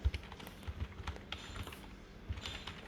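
Quiet keystrokes on a computer keyboard while a pip install command is entered in a terminal, a few soft irregular taps spread over a few seconds with no talking.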